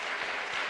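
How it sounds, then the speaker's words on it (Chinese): A church congregation applauds its men's choir during a Sunday worship service, dense steady clapping filling the whole brief moment at an even level. "所以我们再一次拍手，谢谢我们的男诗班"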